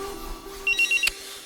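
A mobile phone ringtone chirps in a quick series of short electronic beeps over a steady low background hum, ending with a brief click.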